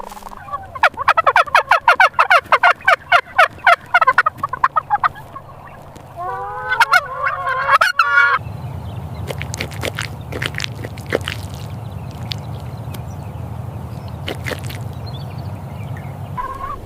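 Turkeys gobble in rapid rattling bursts on a farm, one loud burst near the start and another a few seconds later, followed by steady flock chatter and scattered calls over a low continuous hum.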